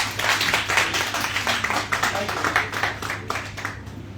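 An audience at a business seminar claps to welcome the next speaker, with loose, uneven hand claps over a few seconds and some background murmur.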